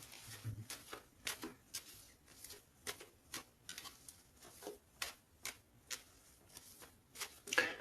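Tarot cards are cut and shuffled, giving a steady run of soft, quick card snaps and ticks in a regular rhythm, faint and close, with no talking.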